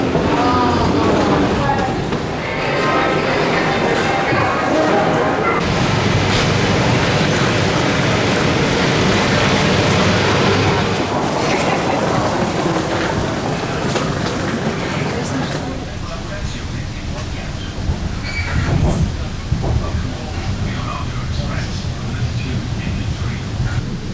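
Inside a train heading to Rome, a steady rumbling ride noise runs throughout beneath people talking nearby, with a quieter stretch toward the end.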